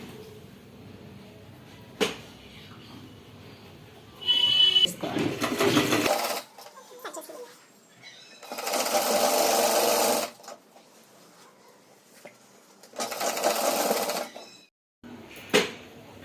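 A domestic sewing machine stitches a silk petticoat cut from a saree, running in several separate bursts of fast whirring stitching with quiet pauses between them, close and clear.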